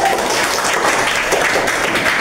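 Students in a classroom clap together in a steady, dense burst of applause that stays even throughout, with no talking over it.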